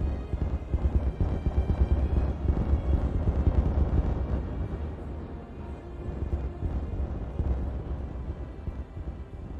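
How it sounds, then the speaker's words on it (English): Explosions detonate in the beaver colony-building game Timberborn, a run of low, rumbling booms rolling one after another, heavy and fairly close, before easing off. "All the explosions."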